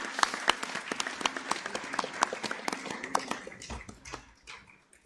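A small group claps at a partnership conference session in New Delhi, a scattered run of distinct individual claps that thins and tapers off near the end.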